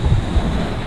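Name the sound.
stormy sea waves crashing with wind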